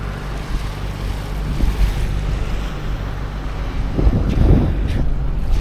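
Strong wind sweeps a beach cove at Canajurê, Florianópolis, buffeting the microphone in a rough, gusty rumble over a wash of surf, swelling louder toward the end.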